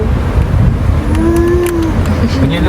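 A cow lowing in one long, drawn-out moo over steady road and engine noise, fairly near.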